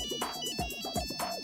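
Ringtone of a Nokia 5100 series wireless phone, a short quick electronic melody of rapid repeated note bursts, heard alone at moderate volume.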